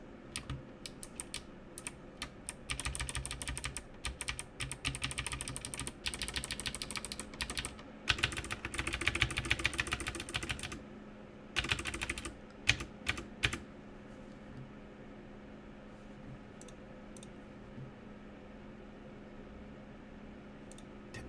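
Typing on a modded GK61 hot-swappable mechanical keyboard with clicky switches, rapid bursts of sharp clicking keystrokes in close, uneven runs with short pauses, alone in a quiet room.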